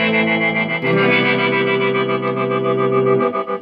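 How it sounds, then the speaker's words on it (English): Megatone reverb tank with its tremolo effect turned all the way up, a sustained distorted guitar-like tone pulsing rapidly in steady waves, loud and close, with no talking. "Now that is the tremolo all the way up"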